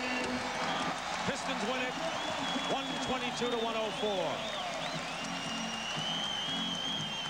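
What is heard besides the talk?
basketball arena crowd cheering, Pistons vs Celtics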